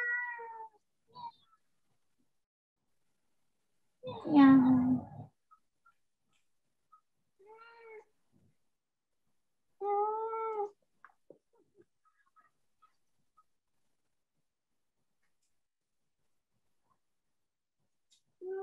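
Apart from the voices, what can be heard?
cat meowing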